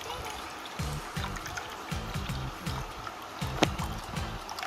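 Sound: water being poured into a bowl

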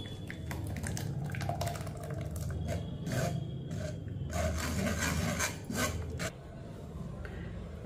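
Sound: pouring blended red juice through a strainer into a bowl

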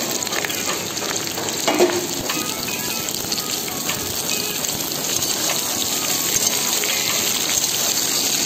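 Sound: mustard chips added to hot oil, frying

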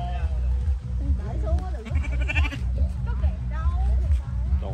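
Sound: sheep bleating

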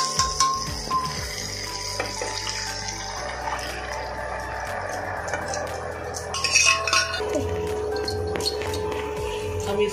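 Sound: boiled chickpeas and potatoes with water added to frying masala

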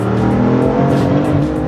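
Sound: BMW F80 M3 accelerating hard

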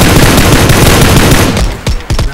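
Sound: gunfire from a gun in the video game PUBG Lite

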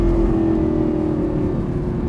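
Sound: Lamborghini Gallardo engine revving

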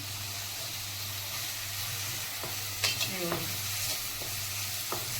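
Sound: chili powder and ginger-garlic paste frying in oil

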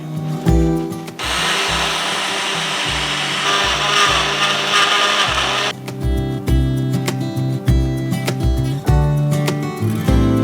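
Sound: mixer grinder jar grinding coarse flour again

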